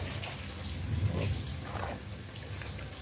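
Mandi fish lifted out of its brine, with soft watery drips and splashes over a quiet kitchen background, brief and fairly faint.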